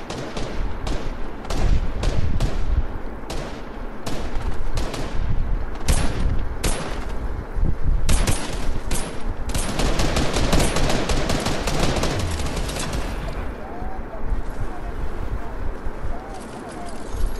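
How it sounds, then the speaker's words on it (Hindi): Enemy gunfire in an online shooter game: rapid bursts of automatic fire and single shots crackle loudly and continuously, some close and some distant, while players talk over the action. "They are also firing at me."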